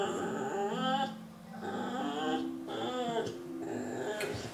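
A young puppy shut in a crate at night whines and whimpers in three drawn-out, wavering cries separated by short pauses, close and fairly loud with no talking.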